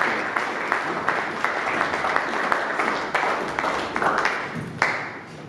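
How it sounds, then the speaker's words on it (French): Audience applause at a film presentation of Sabu at the Institut français: steady, dense clapping from a seated crowd with sharp individual claps standing out, sustained throughout and easing slightly at the end. "Continuons à applaudir,"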